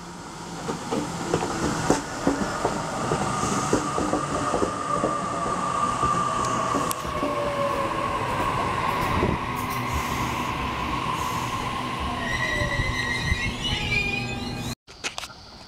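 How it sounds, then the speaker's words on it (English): A Sydney Waratah electric train pulls into the platform, a loud sustained rumble with rising and falling motor whine, brake squeal and wheel noise near the end, heard close with no talk. "And now we have a Waratah arriving into platform number one"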